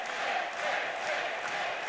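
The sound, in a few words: wrestling crowd cheering for Ace Austin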